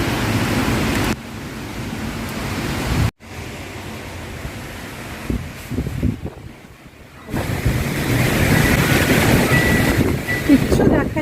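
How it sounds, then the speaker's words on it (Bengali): Heavy rain pours down in Dubai as a loud, dense roar with wind buffeting the microphone. The noise drops out sharply for a moment and fades briefly midway, then returns just as strong. "rain in Dubai, heavy heavy heavy rain"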